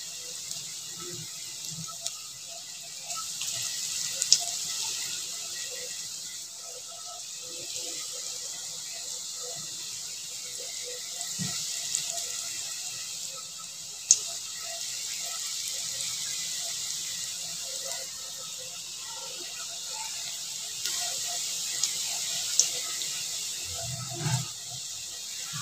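Small vegetable fritters (bora) dropped into hot oil give a steady broad frying hiss, with a few soft clicks and pops scattered across the clip.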